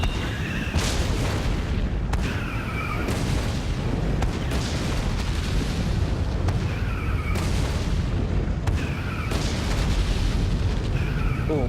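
Cannon fire booms in the Attack on Titan: Wings of Freedom video game, a steady, dense run of loud blasts and rumbling impacts that fill the whole stretch, layered with game effects and no clear pauses.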